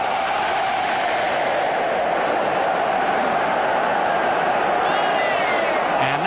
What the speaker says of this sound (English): And the Milan crowd absolutely relishing this. Cheering their team's every move.